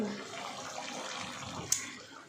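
Water pours steadily and close into a pan of sautéed chicken, a continuous rushing splash that runs alone for the whole stretch.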